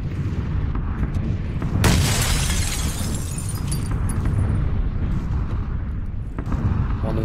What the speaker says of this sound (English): Throwing a grenade at me.